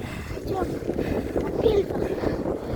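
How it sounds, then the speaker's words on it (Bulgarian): Wind blows through a forest in gusty, rumbling buffets against the microphone, with a faint voice now and then under the noise. "Има и вятър малко."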